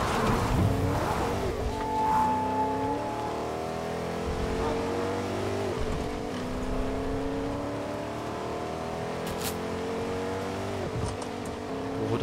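Engine drone of a car driven in the video game Fortnite, a steady revving whir with rising and falling pitch as it accelerates and shifts, continuous and close with faint game sounds.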